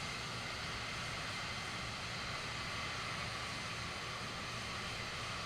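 Steady droning airplane engines from Microsoft Flight Simulator 2, a continuous broadband roar with a low propeller-like hum, constant in loudness and heard alone throughout.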